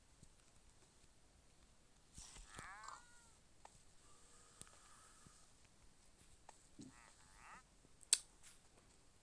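Several short cat meows from a cat in Minecraft, fairly quiet and spaced apart, over a faint background with a sharp click near the end.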